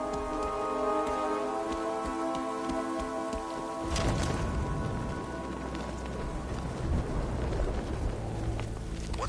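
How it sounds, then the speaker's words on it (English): Heavy video game rain, from Batman: Arkham Knight, hisses steadily, joined partway through by a louder surge of pattering, while a sustained tonal hum fades out early on. "What's with all the rain?"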